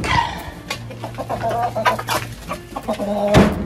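Farmyard chickens cluck nearby in a run of short, choppy calls that overlap and continue throughout, with a louder squawk near the end.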